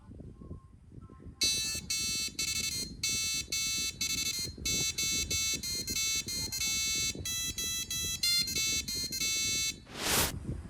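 A passive buzzer plays a theme as a series of thin, shrill electronic beeping notes in a clear melodic rhythm, close and alone, ending with a brief noisy burst.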